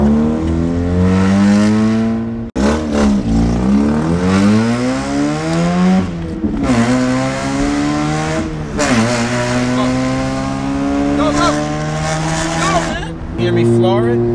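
Mazda RX-8 rotary engine revved hard at full throttle in a moving car, loud rising and falling revs repeated through several gear pulls with brief cuts between, and people talking inside the car over it.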